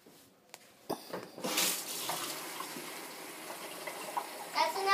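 Water pours into a cup for a baking soda volcano, a soft steady splashing and trickle close by that begins after a few light knocks and runs to the end.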